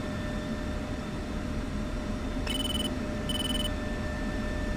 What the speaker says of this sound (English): Those noises you heard are just new RWR contacts,